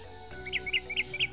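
An orange-headed thrush (anis merah) sings in a series of four bright, rising chirps at an even, rapid rhythm, close and clear over a quiet background hum.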